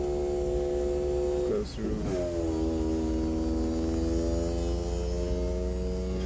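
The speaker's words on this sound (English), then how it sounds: "Then you can also close the roof." An electric roof on a Daihatsu Copen closes with a steady motor whine that shifts in pitch partway through, over a constant idling hum, while someone talks.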